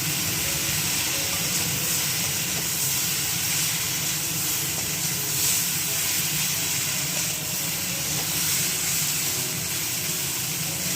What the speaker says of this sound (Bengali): শিম, বেগুন সব সবজিগুলো সুন্দরভাবে ভাজা হয়ে গেছে